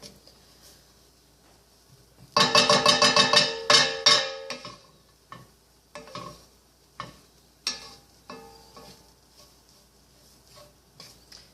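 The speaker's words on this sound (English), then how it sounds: "you're trying to toast up these spices in your pan" Whole spices toasting in a hot pan for chana masala, a dense crackling sizzle bursting in loud for about two seconds, then thinning to scattered pops and clicks of stirring against the pan.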